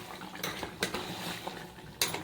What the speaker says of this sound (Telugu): ఇది ఒకసారి నీరు ఇంకిపోయేదాకా కలిపేసుకుందాం.